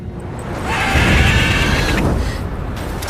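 A mare neighs in Witcher 3, a drawn-out whinny rising over a steady low rumble of game ambience, fairly loud and up close.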